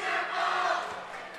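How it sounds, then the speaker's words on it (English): An energetic crowd at a school basketball game in a gym cheers and yells in a brief, loud, sustained roar. "Very active crowd across the way."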